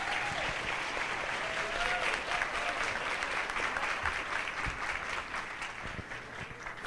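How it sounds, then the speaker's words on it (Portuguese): Sustained applause from a lecture audience on family challenges in the twenty-first century, a dense, even wash of many hands clapping that holds steady and tapers slightly toward the end, with a few faint voices mixed in. "E mais aplausos, por favor, gente."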